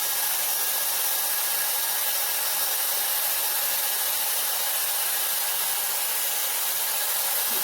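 A Dyson Airwrap blows a steady stream of hot air while curling hair around its barrel, giving a constant, even rushing hiss that holds unchanged from start to finish, with no voices.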